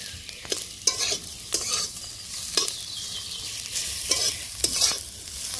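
Onions frying in a pan for a spicy bitter gourd (karela) dish, sizzling steadily while a utensil scrapes and stirs in a series of sharp, regular strokes, close and clear with no talk.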